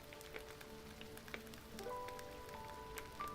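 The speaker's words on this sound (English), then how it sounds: "the sleet still continued to come down" Sleet pattering steadily outdoors at a below-freezing winter campsite, a soft continuous patter of icy drops with scattered sharper ticks, moderately near and alone with no talk.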